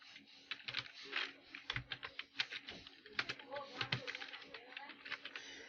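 Rapid typing on a computer keyboard, close and fairly quiet, with irregular bursts of key clicks and brief pauses, under a faint steady hum.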